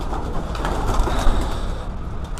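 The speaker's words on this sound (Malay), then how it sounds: "Burung." A pigeon coos on a high rooftop of an old abandoned Ipoh apartment tower, soft repeated low calls close by over a faint background hum.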